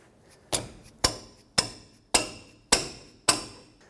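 A rubber mallet strikes a wrench on a brake backing plate bolt of a 2003-2021 Chevrolet Express 3500 van, six sharp evenly spaced ringing knocks, close and clear with no talk.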